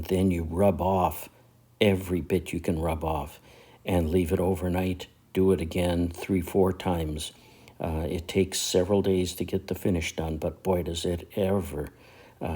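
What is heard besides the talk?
None of the usual background noises is heard.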